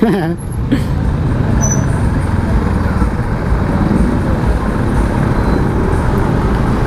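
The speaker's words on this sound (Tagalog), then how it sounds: "siksik na yung mga sasakyan dito" Dense road traffic with cars, buses and motorcycles rumbles continuously close by, a loud unbroken drone of engines with brief higher tones near the start.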